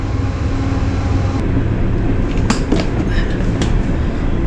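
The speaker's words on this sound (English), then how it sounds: "sorry, there's a train going by" A train rolls past nearby, loud and continuous, with rumbling wheels, clickety-clack rail joints and sharp metallic squeals and clanks rising out of the roar.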